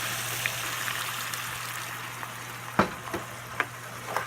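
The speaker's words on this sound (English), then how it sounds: "then deglaze with a little bit of beer" A pan of browned meat and vegetables for steak and kidney pie sizzles steadily after a splash of beer, with a few sharp clicks and scrapes of a utensil cutting through the hiss.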